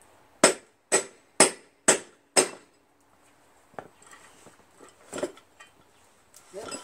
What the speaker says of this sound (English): get a chisel, put it right around here.